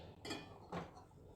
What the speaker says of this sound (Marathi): त्याने मी हे प्लेट काढत आहे